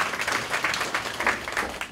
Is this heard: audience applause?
yes